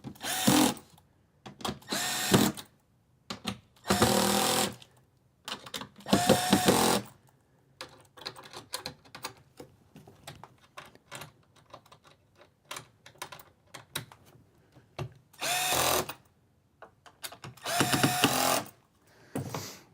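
A Milwaukee drill driver set to torque setting 4 drives screws while wiring a smart distribution panel in a Ford Transit camper van, giving loud close bursts of motor whine, several short runs separated by pauses.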